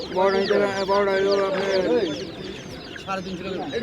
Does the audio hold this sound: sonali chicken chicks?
yes